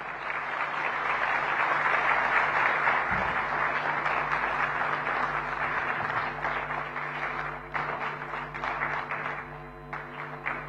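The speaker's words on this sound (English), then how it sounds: "let that applause continue" An audience at the Indo-American Chamber of Commerce national convention 2026 applauds after a speech by Maharashtra's Chief Minister, a sustained, dense clapping that holds steady, then thins slightly near the end, with no speech over it.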